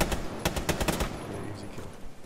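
Rapid automatic gunfire from Rainbow Six Siege on the Favelas map, a close burst of about eight sharp shots in the first second followed by fainter scattered rattling.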